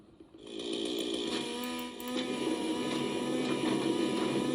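Chainsaw in the video game Teardown, a steady buzzing engine drone that starts abruptly and runs continuously at moderate level with slight revving swells, with no talking.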